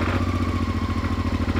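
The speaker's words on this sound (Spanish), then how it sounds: "Arrancamos la moto." A motorcycle engine running at a steady idle after starting, loud and close, with a regular low throbbing pulse.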